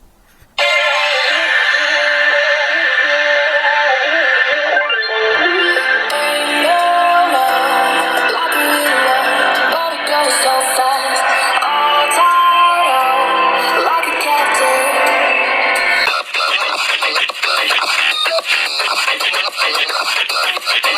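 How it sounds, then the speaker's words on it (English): Music playing loud and continuous through the bottom- and top-firing speakers of a ZTE Axon 40 Ultra phone, bright and treble-heavy with thin bass, alone for about twenty seconds. "we have a bottom firing speaker and a top firing speaker, to see how good they sound"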